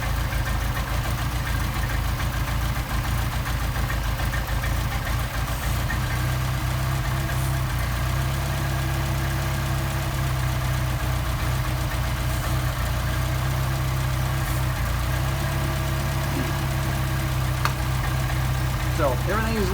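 An engine fitted with a Solex carburettor idles steadily on test with a low, even drone throughout and occasional faint clicks and taps over the top.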